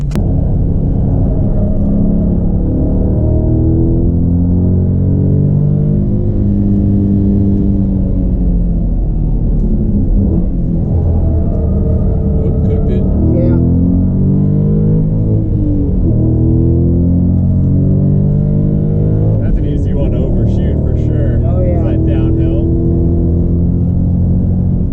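A Dodge Challenger Hellcat Redeye widebody, 797 hp, drives with a loud, steady, low engine rumble that swells and throbs throughout. Its revs rise and fall in places. Faint higher noises cut in briefly near the middle and toward the end.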